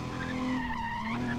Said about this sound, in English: all you hear is tire squeals